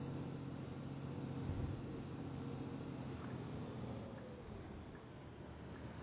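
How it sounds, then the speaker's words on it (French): A MAN Lion's City A21 bus engine in Proton Bus Simulator drones low and steady as the bus climbs uphill on a mountain route. The rumble is continuous and fairly quiet, with no speech over it. "le son du moteur n'a pas changé"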